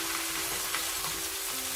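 Two medium onions, finely chopped, fry in a pan as the base for mutton curry, giving a steady, close, continuous sizzle with crackling bursts throughout and no talking.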